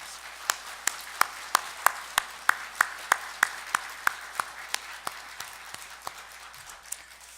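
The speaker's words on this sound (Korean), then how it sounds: "하나님께 영광의 박수를 올려드리겠습니다." Church congregation clapping in praise during a Korean worship service: evenly spaced, rhythmic claps in unison at a moderate distance, about fifteen beats that taper off near the end.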